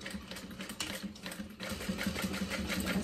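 A sewing machine top stitches through a fabric seam at a long stitch length, its steady rapid motor whir and needle clatter running continuously, close and moderately loud, with a brief pause midway.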